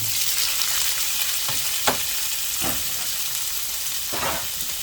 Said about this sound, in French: Je vais laisser juste un petit peu d'huile pour faire revenir mes champignons.